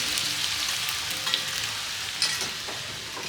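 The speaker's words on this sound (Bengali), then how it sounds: "আস্তে আস্তে নাড়াতে হবে নাড়ার নিচেগুলো হয়ে যাবে" Singaras (samosas) fry in oil in a pan, a close, dense sizzle that runs throughout, with a few soft scraping knocks as they are slowly stirred.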